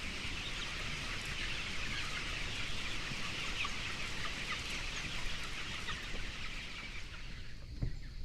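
Chickens roaming free on a pasture farm cluck softly and steadily at a moderate distance, a continuous low flock chatter with occasional sharper calls and no voices.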